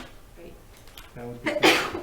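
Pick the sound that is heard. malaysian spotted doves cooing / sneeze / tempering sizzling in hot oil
sneeze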